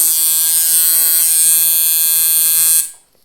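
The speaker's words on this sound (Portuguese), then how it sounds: "Esse é o barulho que a nanodial faz." A nanodial tattoo machine buzzes in a steady, loud, high-pitched electric drone for about three seconds, then cuts off abruptly.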